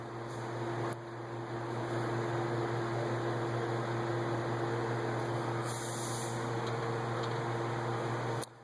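Air hisses steadily out of an opened coolant line on a Pontiac Grand Prix 3.8L, a continuous close-up rush of faint noise with a low background hum.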